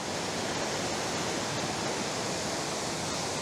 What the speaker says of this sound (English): There are many weirs that are along this river. Quite a big one.